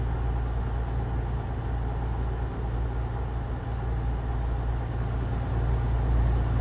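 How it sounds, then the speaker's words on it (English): Damaged truck engine in Euro Truck Simulator 2 after crashes, a steady low rumbling drone that runs on continuously and close up, with no talk over it. "I think our truck's making a dodgy sound after all the crashing we did earlier on"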